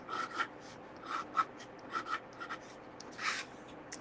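A pen scratches across paper in quick strokes, faint close-up rasping scribbles coming in short irregular bursts with brief pauses between them.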